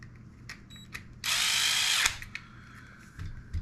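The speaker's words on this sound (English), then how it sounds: "And we're gonna bolt this down." A power tool drives a bolt down for about a second in one loud, steady whirring burst, close by, with a few clicks and rattles before and after.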